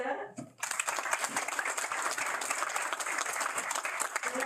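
Audience applause at a Pride Month proclamation signing, a burst of dense, even clapping that starts after a brief moment of speech and continues steadily to the end.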